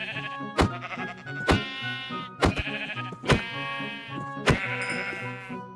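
Sheep in the Minecraft video game bleat repeatedly in short wavering cries, about five of them spaced a second or so apart, clear and close over quiet game background, and no voices are heard.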